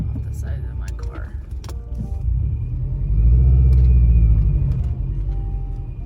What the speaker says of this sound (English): I'm just going to move my car in the garage now.